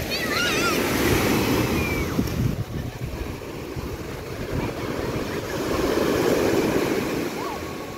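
Strong, rough sea waves surging and breaking on a beach at Olimp, Romania, a steady loud wash of surf with wind buffeting the microphone throughout.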